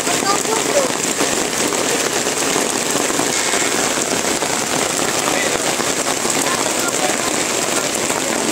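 Rain falls steadily during a funeral gathering as mourners arrive from the cemetery, a constant dense hiss filling the scene throughout with no breaks.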